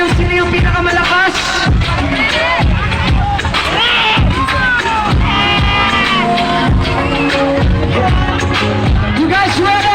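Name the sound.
concert crowd cheering during a crowd check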